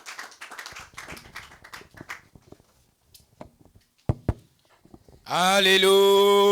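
A church congregation at a spiritual week service claps in scattered, uneven bursts. A few sharp claps stand out before a sustained musical tone swells in near the end.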